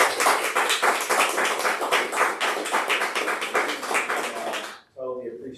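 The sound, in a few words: audience applause for the presenter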